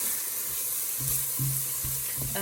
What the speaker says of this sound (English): we'll just add this in and give it a little stir so it toasts up a bit